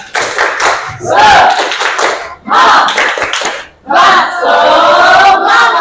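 Junior high classroom students perform a group clapping chant with shouted cheers, three loud bursts of rhythmic clapping and voices separated by brief pauses, the last burst longest and most vocal.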